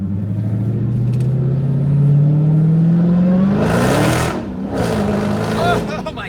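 Dodge Durango SRT of about 800 horsepower launching hard, its engine note climbing steadily as the 275 tires break loose into bursts of noisy wheelspin, loud and close with a voice speaking over it.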